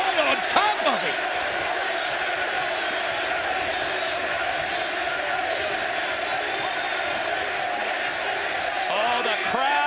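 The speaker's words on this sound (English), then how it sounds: "the crowd loving the action in this Ladder of Love matchup" A large wrestling arena crowd roars and cheers continuously during a ladder match, a loud sustained wall of voices with occasional sharper shouts rising above.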